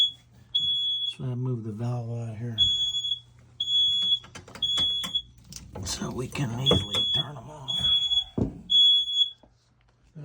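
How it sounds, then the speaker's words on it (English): A household smoke alarm sounds nearby during hose bibb plumbing work, repeating short high-pitched beeps at a steady rhythm while someone talks over it. "That's the smoke alarm."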